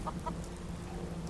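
Chickens cluck in Fallout 4 with two short clucks near the start over a steady rain-like hiss, at moderate volume and somewhat distant.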